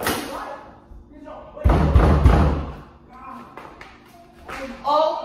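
A locked door pounded with a few heavy thuds in a short burst, loud and close, amid shouting voices.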